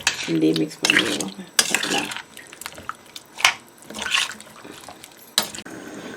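Metal spoon clinks and scrapes as chickpea curry with added water is stirred in a pot, with irregular clatters, wet swishes and a few sharper knocks against the pot, close and fairly loud.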